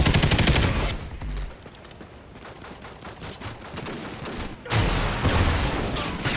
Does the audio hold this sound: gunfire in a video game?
yes